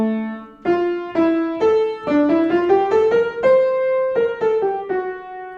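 The second fugue theme from Bach's Art of Fugue is played as a slow, clear solo melodic line of sustained single notes, close and unaccompanied.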